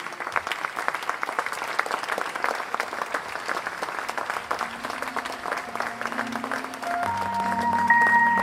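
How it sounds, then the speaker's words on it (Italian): Audience at the opening night of the 15th Sole Luna Doc Film Festival applauds in tribute to a late master, a dense, steady wash of clapping sustained for over eight seconds, with a faint tonal sound creeping in near the end. "applauso al grande maestro scomparso"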